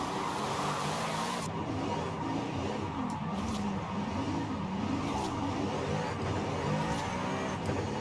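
A Pagani Huayra supercar engine in Forza Horizon 5 drones steadily at close range, holding a continuous rumble with slight pitch rises as it drives, alone without talk.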